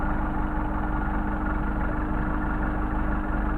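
A Mercedes 190SL engine idles on Solex carburetors during mixture adjustment, giving a steady low, even rumble with a faint pulsing rhythm, heard close and alone.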